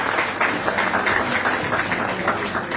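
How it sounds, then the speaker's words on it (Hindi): Brief burst of audience clapping at a patriotic cultural inauguration event, a dense, lively patter of many hands welcoming a singer to the stage, sustained evenly for a few seconds. "इनके लिए जोरदार ताली बजाएंगे"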